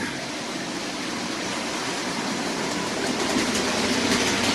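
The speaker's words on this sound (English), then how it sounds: "It seems like the 7F is going a bit faster now after running in than it was before." A Bachmann SDJR 7F OO gauge model train runs with a whole train of wagons behind it, a steady close rushing whir that holds even and continuous and swells slightly toward the end.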